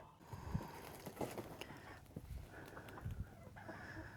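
Free-ranging hen clucking in a snowy yard on a frigid morning, a few short low clucks scattered among soft rustling and faint background noise.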